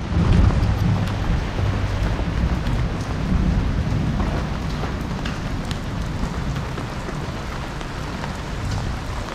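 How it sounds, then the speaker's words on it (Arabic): Heavy rain pours steadily onto a Moroccan street during a thunderstorm, with a deep low rumble of thunder under the constant broadband hiss and no voices. "الرعد قوي جدا من الصبح والمطر"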